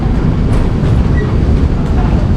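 A metro train rumbles steadily and loudly at a Dubai metro station, its wheels clicking faintly over the rails beneath a constant roar, with no clear voices.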